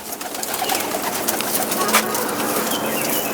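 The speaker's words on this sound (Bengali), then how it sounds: "তো দেখতে পাচ্ছেন এক এক করে পায়রা দেখাই" Pigeons cooing softly in a loft, low throaty calls repeating now and then beneath a steady hiss of background noise, with no talk.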